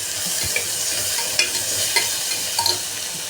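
Vegetables being sautéed in a pan with rock salt, a continuous soft sizzle broken by a few light scrapes and taps of the spatula, close by and without speech.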